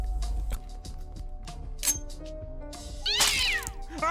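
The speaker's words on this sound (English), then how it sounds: "The house cat." A house cat meows loudly several times in quick succession, with short clinks and other cartoon sound effects mixed in.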